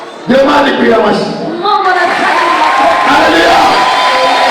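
A church congregation breaks into loud cheering, whooping and applause that stays dense and sustained throughout, with a few voices shouting over the crowd.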